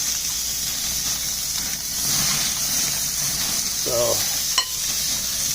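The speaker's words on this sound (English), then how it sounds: "We're going to take the octopus, just throw it on there." Cooked octopus sizzles on a hot grill, a steady broadband hiss running throughout with a brief clink near the end; a voice speaks faintly over it.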